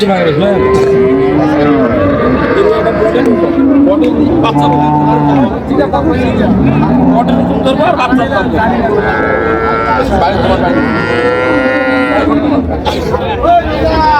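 Several cows moo loudly and repeatedly, one call overlapping the next, amid a busy crowd with people chattering close by at the Raniganj cattle market in Dinajpur.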